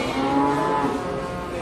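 A Simmental Charolais cow lets out a single long, loud moo close by, with no talk over it.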